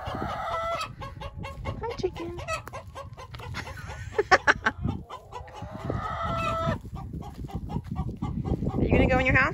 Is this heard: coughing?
no